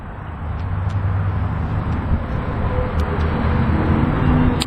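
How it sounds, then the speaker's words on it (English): A 2012 Audi A8 L with the 4.2 engine runs at a steady idle right after start-up, a continuous low rumble that stays loud and close the whole time, with no talk over it. "let's go ahead and fire up the engine, see how she runs"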